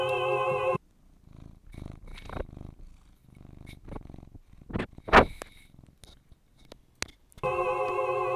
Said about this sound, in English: Get a little purr from the kitty cat.